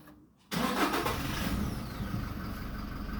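Car engine started by push-start button with the brake pressed: an abrupt start after near silence, then a steady loud idle running close by, no talking.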